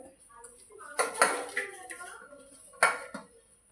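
Washed dried fish and ingredients tipped into a pressure cooker, giving a couple of loud metallic clanks and scrapes of utensil on the pot, with a voice talking over them.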